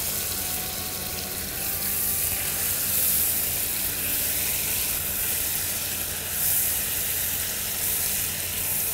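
Apples with cinnamon sizzle in a pan on the stove, a steady bright frying hiss that swells slightly at moments and runs throughout without talk.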